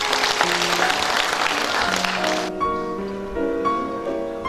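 Audience clapping at a Kyrgyz poetry evening, steady dense applause filling the first half then giving way to music tones, continuing underneath throughout.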